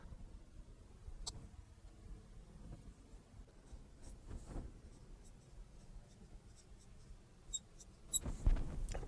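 Handwriting while working through a math proof, with soft, close scratching strokes coming in short bursts and pauses, growing a little louder and busier toward the end.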